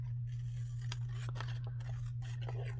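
Scissors trimming the edges of a couple of paper postcards, a few quiet separate snips over a constant low electrical hum, with no talking.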